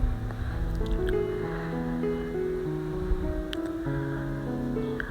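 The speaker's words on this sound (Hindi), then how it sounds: "तो यहाँ मैंने इलायची भी शामिल कर दी है और अब इसको मैं मिक्स कर लूँगी।" Raw mango murabba with cardamom being stirred in a pan over medium heat makes soft, wet squishing and sloshing sounds, close and continuous, with a faint sizzle beneath a steady background of tonal hum.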